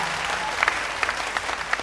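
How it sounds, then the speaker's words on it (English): Steady applause from an audience fills the whole moment, dense clapping with a few louder claps standing out, no voices over it. "Once again, a big round of applause for Michael Yossi, ladies and gentlemen."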